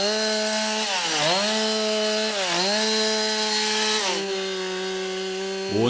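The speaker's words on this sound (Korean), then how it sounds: "전기톱으로는 나무를 자르고" A chainsaw roars steadily as it cuts heavy wooden logs at a log-house workshop, its pitch sagging twice under load before recovering, then easing off near the end; close and loud with no talking.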